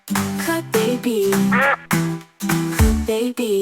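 A voice sings a quacking duck call in a tune, repeated several times with pauses between phrases; a person imitating a duck.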